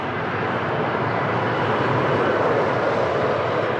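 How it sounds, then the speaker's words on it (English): A Lufthansa airliner in special Star Alliance livery arrives to land at Lisbon Airport, a steady, loud broadband jet roar that swells slightly toward the end, with no voices. "Agora a chegar temos a Lufthansa com a pintura especial da aliança que eles pertencem, a Star Alliance."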